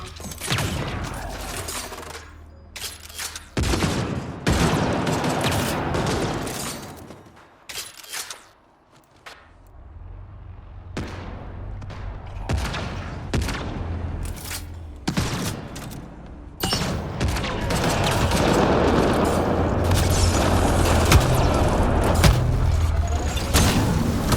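Enemy gunfire in a video game battle, repeated bursts of shots and heavy thuds in irregular clusters, dropping briefly quiet before swelling into a denser, sustained barrage.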